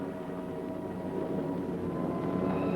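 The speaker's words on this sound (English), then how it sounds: "Every ear strains for the first sound of the engines" Steady low droning of distant B-17 Flying Fortress piston engines, a continuous hum that swells slightly as the bombers draw nearer, with no voices.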